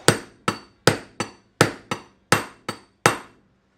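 A hammer drives out the kingpin on a Datsun truck with nine sharp, ringing metal blows, loud and close, landing in an uneven rhythm about every half second.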